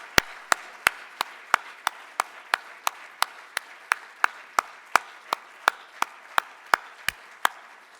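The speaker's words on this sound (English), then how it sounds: "Please give all of those people one round of applause." An audience claps in slow unison, giving sharp, evenly spaced claps about three per second for the full stretch, each one crisp and loud over a faint background hum.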